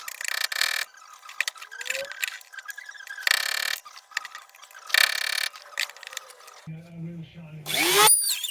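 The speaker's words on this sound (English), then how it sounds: "So I'm going to try using the normal looking drill bit first" A power drill with an ordinary bit bores into the metal of a 1967 split-screen van in several short bursts of whining grind, with clatter between them. A longer, lower buzzing run comes near the end.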